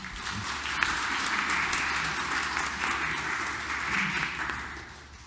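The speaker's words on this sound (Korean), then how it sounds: "우리 뜨거운 박수로 환영해 드릴까요?" A church congregation applauds during Sunday Mass on the parish day, a fairly soft, steady patter of clapping that swells slightly and fades toward the end.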